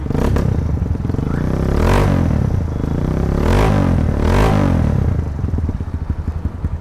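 A stock-engined Kawasaki KLX supermoto revs loudly up close, its engine note swelling in three strong throttle blips over a steady idle, with no voices.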